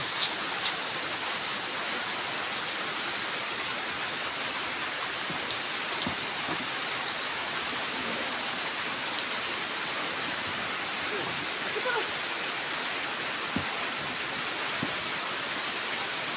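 Heavy rain falls all day, a steady dense hiss of drops on surfaces with a few sharper drips, even and unbroken throughout.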